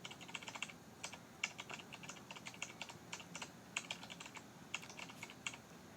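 Rapid keyboard typing with crisp, uneven clicks in bursts, close and fairly quiet, with no voices.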